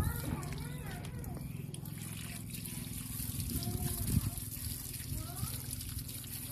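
Colocasia black coral and diamond head cuttings being rinsed in water, with soft trickling and sloshing under someone talking steadily close by.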